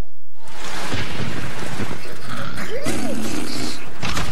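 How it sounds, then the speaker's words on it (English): Thunder rumbles through a tropical storm in a TV commercial, with dense noisy rain-like wash, a loud crack near the start and voices plus cartoon-like effects layered over the storm. "A tropical storm is coming"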